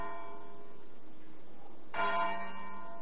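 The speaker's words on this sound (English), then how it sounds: "the tenor bell in the parish church tolls once for every year since Christ was born" A single stroke of the tenor bell in the parish church at Dewsbury, Yorkshire, tolled on Christmas Eve, rings out clearly and alone with a sustained, humming decay.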